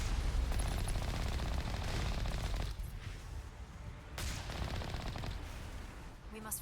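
Rapid machine-gun bursts and heavy gunfire in the video game Mass Effect Legendary Edition, dense and continuous at first, then thinning into scattered shots with a sharp blast near the end.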